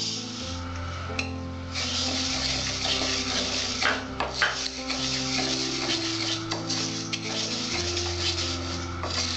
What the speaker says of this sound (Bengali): মুগ ডালটা কড়াইটা ভেজে নেব।